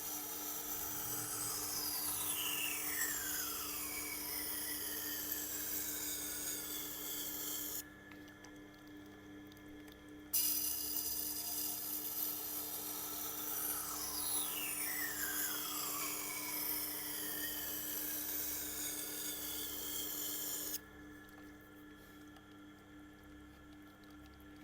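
A Nitro V steel knife grinds against a Tormek Blackstone sharpening wheel in steady, close passes, a whirring hiss streaked with rising and falling squeals, broken by two short pauses where only a faint hum remains.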